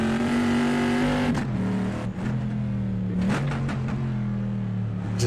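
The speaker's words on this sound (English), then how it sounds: "But they still both sound like a proper V8." A V8 race car in a 1960s GT racing game mod howls under load with a high, steady engine tone, dipping through a gear change and a lift, then pulling hard again, loud and close with no talk.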